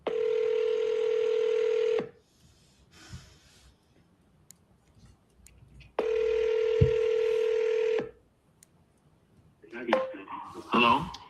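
Telephone tones on an outgoing call to a property seller, two long, steady, evenly spaced electronic tones with quiet gaps between them, followed by a voice talking at the end.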